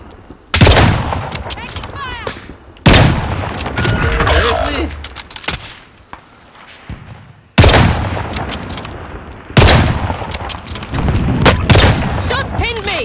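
Sharp, booming 3-line rifle shots in a shooter game, several separate loud reports spaced a few seconds apart, each with a ringing tail, mixed with lighter background gunfire and a voice now and then.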